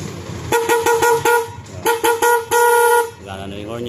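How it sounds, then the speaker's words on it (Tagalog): A motorcycle horn on a Yamaha Sniper 150 honks in a quick series of short beeps, then a couple of longer blasts, loud and close, with a voice briefly at the end. "Gana na yung horn niya."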